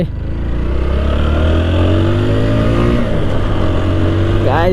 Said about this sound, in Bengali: এখানে দেখেছো একদম পুরো বাইকের সাউন্ড চেঞ্জ হয়ে গেছে